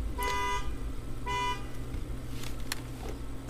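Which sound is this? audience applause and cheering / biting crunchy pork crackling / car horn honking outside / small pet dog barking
car horn honking outside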